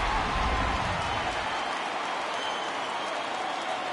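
Stadium crowd in MLB The Show baseball video game roaring loudly in a steady wash of cheering and applause, the low rumble fading after a second and a half while the broad roar continues.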